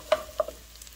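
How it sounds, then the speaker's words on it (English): A spoon clinks twice against a pot while lentil and spinach soup is stirred, the brief taps set over a faint simmering hiss. "Give it a nice stir"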